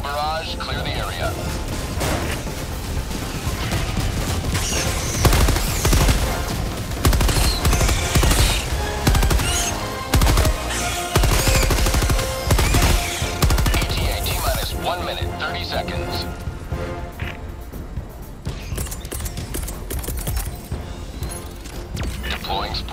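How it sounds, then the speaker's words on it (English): Orbital barrage explosions and gunfire from Helldivers 2 pound away in dense, rolling bursts, loud and close, with heavy booming impacts clustered through the middle and a voice speaking intermittently over the din. "Firing orbital barrage."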